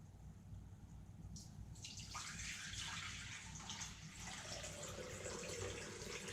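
Water pours and splashes steadily into an essential oil diffuser's reservoir, a continuous rushing flow that grows brighter partway through, fairly quiet, with no speech.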